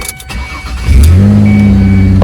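A Ford Escape with a rough idle cranks briefly, then its engine catches and settles into a loud, steady idle hum close by.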